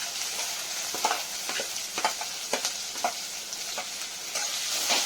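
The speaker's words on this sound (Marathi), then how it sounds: "आता आपण बारीक चिरलेला कांदा टाकून घेणार आहोत" Finely chopped onion sautéing in a pan for upma gives a steady frying sizzle, broken by a rhythmic series of soft scraping stirs at close range, with no talking.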